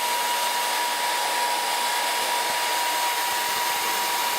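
Hair dryer set on hot and high, blowing air straight into a tub: a loud, constant close-up whoosh with a faint steady motor whine and no other sounds.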